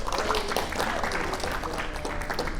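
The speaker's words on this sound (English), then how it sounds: "let's give them hands of applause also." Applause from a gathering at a mosque event, a dense, steady round of clapping filling the whole short stretch at moderate loudness.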